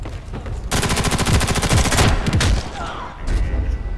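Submachine gun fire in the video game Ghost in the Shell: Stand Alone Complex - First Assault, a loud sustained burst of rapid shots that runs for about two seconds and then trails off into quieter game sounds.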